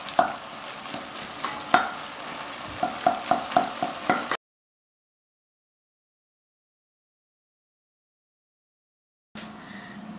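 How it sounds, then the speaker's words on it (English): Keema mince cooking in its own juices in a pan gives a close, steady sizzle with scraping stirs for about four seconds, then the sound cuts to silence before faint pan noise returns. "there's plenty juices which are gonna help to cook this mince"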